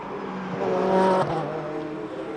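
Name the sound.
GT race cars on the Nogaro circuit, Ferrari number 9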